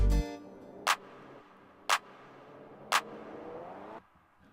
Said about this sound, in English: I'm gonna play just this transition from the verse to the chorus,